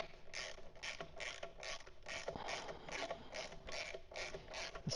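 A hand ratchet snugs a bolt on a Black Dog skid plate on a 2025 BMW R1300GS Adventure motorcycle, giving a close, quiet, evenly spaced string of clicking strokes, about a dozen over a few seconds.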